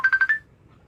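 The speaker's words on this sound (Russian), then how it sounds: "Да, ему звонят, Ика." A telephone rings with four quick electronic trills in a steady rhythm, fairly close and clear, then stops abruptly, leaving near silence.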